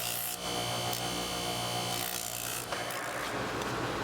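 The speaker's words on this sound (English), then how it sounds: "Then I used my flex drum with 220 to sand and smooth all the pieces that I could." A flex drum sander with 220 grit smooths carved wood pieces, giving a steady, dense abrasive whir and rubbing that stays loud and continuous throughout.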